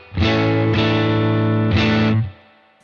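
A distorted electric guitar chord through a UAFX Dream '65 Reverb amp pedal rings out loud and sustained, struck again twice, with heavy gain and a buzzing, saturated tone.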